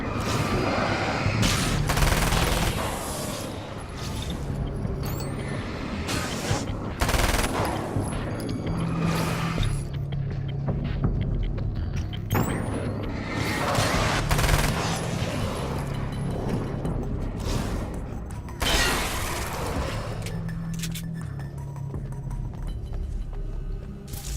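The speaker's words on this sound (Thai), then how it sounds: "เพราะฉะนั้นก็เราก็ปืนกลบ้างดีกว่า" Bursts of rapid machine gun fire in the Alan Wake video game, loud and close, with repeated sharp volleys over a steady rumble of game ambience.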